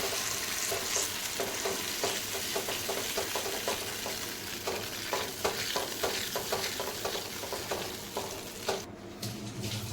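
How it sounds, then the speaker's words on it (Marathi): A rice flour and buttermilk slurry is stirred continuously in a pot for traditional Maharashtrian ukad, giving a regular rhythmic scraping and sloshing of the spoon over a steady background hiss, close and moderately loud. "आता सगळ्यात महत्वाचं मेन काम आहे की तुम्हाला कंटिन्यू हे स्टर करत राहायचंय"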